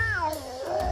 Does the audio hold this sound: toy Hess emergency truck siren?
no